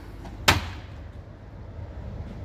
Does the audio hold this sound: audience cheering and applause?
no